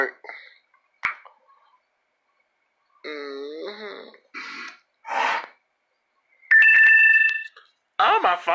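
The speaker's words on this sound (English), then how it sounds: "Oh, my phone finna go." A phone ringtone plays in short bursts of a bright repeating melody near the end, between stretches of someone talking.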